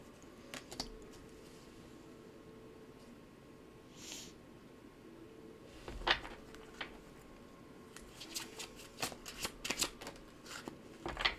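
Tarot cards are shuffled during a live reading, producing soft, quick papery flicks and riffles in clusters that grow busier toward the end, close but quiet over a faint background hum.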